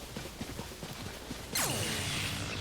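Rhythmic hoofbeats of a Lynel, a horse-bodied centaur creature in a video game, thud steadily at first, then a loud swooping whoosh with falling tones takes over partway through.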